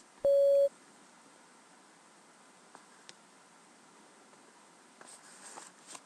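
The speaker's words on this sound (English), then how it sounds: "Please prepare your answer after the beep." A single short, loud electronic tone sounds once at the very start, then gives way to near silence broken only by faint clicks and soft rustling.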